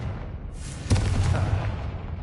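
A Confringo fire blast spell from Hogwarts Legacy erupts in a sudden loud boom, then rolls into a rumbling, crackling tail that fades slowly over a low ambient hum.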